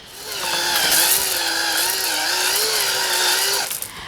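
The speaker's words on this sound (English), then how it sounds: "I am using a silicone ball hone to break the glaze that is on the sleeve." A silicone ball hone spins inside a used engine cylinder sleeve on a Ford tractor engine, making a loud, steady mechanical whine with a grinding edge. It holds for several seconds, then winds down.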